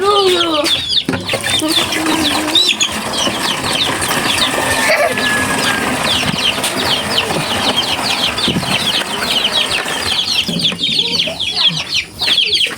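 Chickens cluck and chatter continuously, a dense busy flock close by with a steady noisy background and a faint voice now and then.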